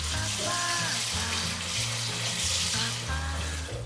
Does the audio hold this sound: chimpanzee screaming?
no